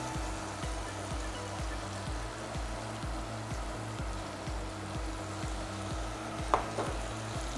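Pomfret fish sizzling and frying in a pan of curry paste and onions, a steady loud hiss with a regular stirring rhythm and one sharp clink near the end.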